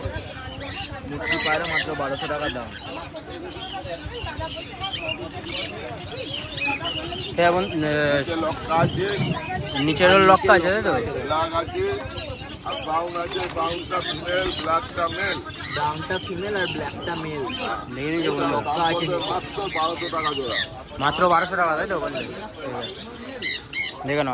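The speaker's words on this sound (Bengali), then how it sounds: "তোমাদেরকে এতক্ষণ পায়রা দেখালাম" Pigeons and other birds at a busy Sunday bird market in Serampore give scattered squawks and calls, heard under near-constant chatter from people nearby.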